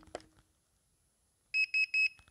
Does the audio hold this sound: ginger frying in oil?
no